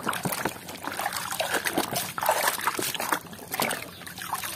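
Dirty toy cars, including a Tayo bus, are scrubbed in clean water, with close trickling, sloshing and small splashes that rise and fall throughout.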